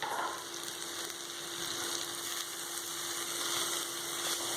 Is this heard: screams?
no